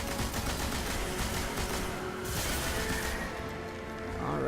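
Heavy weapon gunfire in Destiny, a dense, continuous barrage of shots and blasts with no pauses, loud and close throughout.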